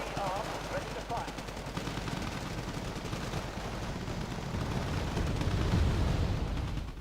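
Artillery and gunfire from the real-time strategy video game Wargame Red Dragon, with dense rumbling explosions and rapid gunfire rolling continuously, loud and close, swelling slightly toward the end, with a voice speaking over it.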